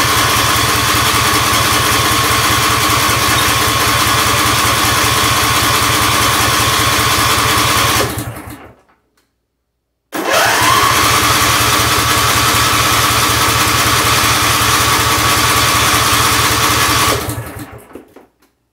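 A John Deere D170 lawn tractor engine runs loud and close at a steady buzzing idle, cuts out into a second of silence, then restarts and runs on before dying away again.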